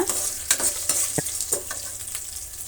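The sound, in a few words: cashews frying in a pan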